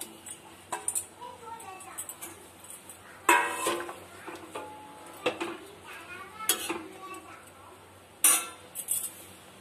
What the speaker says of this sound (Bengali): ঝোলটা ফুটে গেছে, ভাজা বাটা মাছগুলো দিয়ে দেব